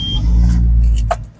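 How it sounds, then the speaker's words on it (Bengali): A 2019 Toyota HiAce GL van's engine cranks and starts with a deep low rumble that settles into a steady idle, with a brief jangle of keys and a short beep near the end. "এখন আমি গাড়িটি স্টার্ট দিব"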